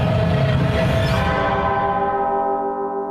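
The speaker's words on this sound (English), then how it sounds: "Ding dong." A bell chimes a ringing ding-dong at an improv comedy festival show, sounding loud and close before its sustained tone decays over about three seconds.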